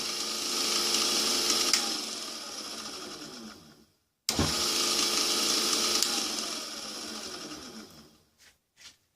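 A homemade woodturning lathe built from junk parts runs its motor with a loud, steady mechanical whir. It winds down to silence, starts up again with a sharp jolt, runs steadily, then spins down with a few faint clicks.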